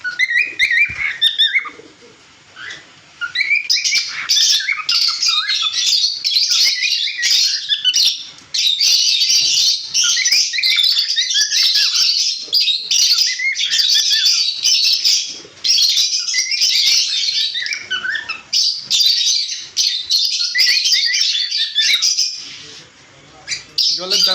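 Black cockatiels for sale squawk and chirp in a near-continuous, loud chorus of shrill calls, with only brief pauses between bursts.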